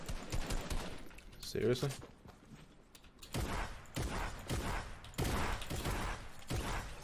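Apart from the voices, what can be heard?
gunfire from shooting in the video game Fortnite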